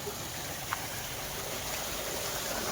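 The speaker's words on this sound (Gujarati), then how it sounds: "આ છે કૂવો, પાણી આવે છે એમાંથી." Water flows from a well in an even, continuous rush from a nearby outlet, steady and unbroken throughout.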